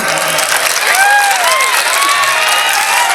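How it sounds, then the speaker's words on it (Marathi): An audience of women and boys at a public awareness programme applauds steadily, a loud sustained wash of clapping with a few whistles and voices mixed in. "तुम्ही एकदा टाळ्या वाजवा"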